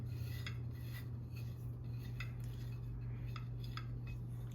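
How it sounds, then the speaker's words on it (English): A lemon rubbed against a zester for cheesecake batter, a series of soft, rhythmic rasping scrapes over a low steady hum, close and faint, with no talking. "Let's add in 2 tablespoons of lemon zest from your lemon."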